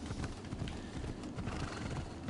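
Horse hooves clip-clopping in a PS4 video game, a quick steady rhythm of hoofbeats under a dense, loud background wash, with no one speaking.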